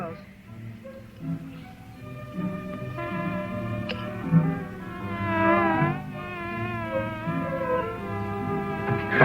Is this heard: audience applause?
no